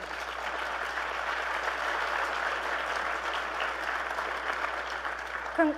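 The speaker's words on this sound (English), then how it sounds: "let's give everybody here a round of applause" A crowd applauds steadily, many hands clapping in a dense, even wash that holds for several seconds.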